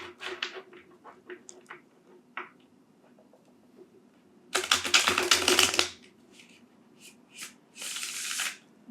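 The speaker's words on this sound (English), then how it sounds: "I guess I should shuffle" Tarot cards being shuffled, with light riffling taps at first and then two loud bursts of dense shuffling, the second one shorter.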